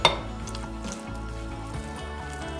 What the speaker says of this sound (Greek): Προσθέτουμε αλεύρι και ανακατεύουμε.